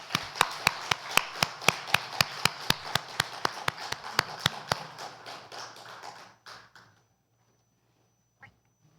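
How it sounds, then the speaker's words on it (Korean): A church congregation at a Korean Sunday worship service claps together in a dense, steady burst of applause that runs for about six seconds. It then fades out, leaving near silence. "하나님께 영광의 박수 올려드립니다."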